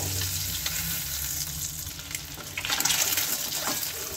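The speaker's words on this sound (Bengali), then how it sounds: "এই করে করে অনেকগুলি ডিম আমি ভেজে নিয়েছি।" Boiled eggs fry in a pan with a close, bubbling sizzle and crackle, and stirring scrapes swell louder toward the end.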